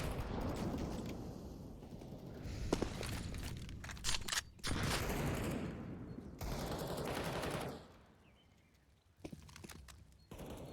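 Rapid gunfire bursts and shots from a competitive Counter-Strike match on the Inferno map, dense and loud for most of the stretch, with brief pauses and a quieter tail near the end.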